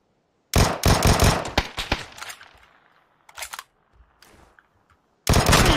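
Loud bursts of automatic gunfire from a shooter video game, rapid rattling volleys at the start and end with scattered shorter shots and fading echoes between, no talking over it.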